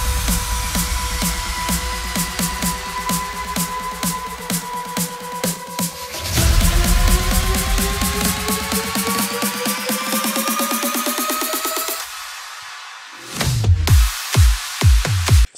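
Electronic buildup drums from a dance music production, played one element at a time: dense, loud rhythmic hits with rising pitched layers, a pause near the end, then a few separate punchy stabs alone.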